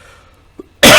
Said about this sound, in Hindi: माफ करना, मैंने अभी खांसी आई।